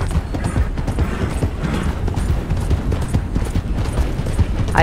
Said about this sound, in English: Now, I am riding the Black Arabian.